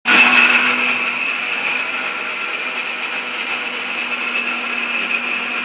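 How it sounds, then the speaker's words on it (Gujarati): A white mixer grinder blends onion, garlic, tomato and ginger into a gravy paste, its loud motor whine starting abruptly and running steady and close throughout with no speech. "સફેદ મિક્સર લઈ છે. એ મિક્સર છે ને ઘડીએ ઘડીએ બંધ થઈ જાય"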